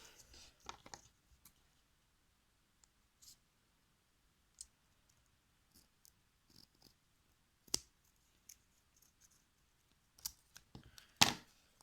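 Scissors cutting through folded paper, with sparse snips and clicks scattered over near silence, a few sharper, louder cuts near the end, close and quiet.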